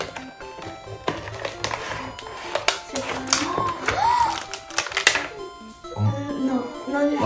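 A Temu package of vintage items being unwrapped: sharp taps and crinkly rustling bursts scattered across several seconds, with a person talking in French over the handling noise.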